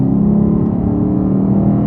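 A Lexus RC F engine in Sport Plus mode holds a steady, loud, high-idle drone, a dense low rumble that stays even and close throughout with no gaps.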